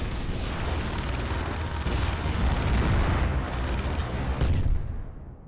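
Heavy gunfire from the Half-Life 2 MMod video game, a dense, continuous roar of shots and blasts that holds loud for several seconds before cutting off near the end.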